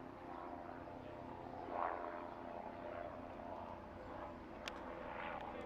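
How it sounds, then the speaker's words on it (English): A helicopter flies overhead above a cricket ground during a T10 match at Hornchurch, England, its engine and rotor a steady broad droning wash that swells briefly before easing, with faint background sounds mixed in. "Got a helicopter just flying overhead here, right above the ground."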